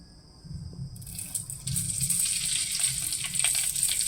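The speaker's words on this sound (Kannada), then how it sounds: "ಈಗ ಎಣ್ಣೆ ಕಾದ್ಗಳು ಸಾಸ್ಮಿ ಹಾಕ್ತೀನಿ." Mustard seeds and cumin dropped into hot oil for a tempering of crushed garlic and curry leaves, for North Karnataka peanut sambar, crackle and sizzle steadily and close up, growing louder after the first second with scattered sharp pops.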